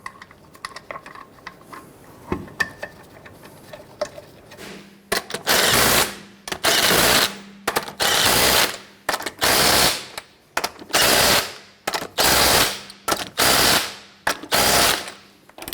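An impact wrench tightens lug nuts on a 1999-2004 Jeep Grand Cherokee, sounding as a string of loud, close, rattling hammering bursts roughly a second long with short gaps between them, after a few quieter clicks and clinks.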